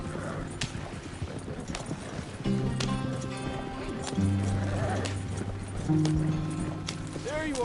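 Hoofbeats of horses running in Red Dead Redemption 2 patter steadily with occasional whinnies, mid-distance beneath sustained music tones, with brief speech.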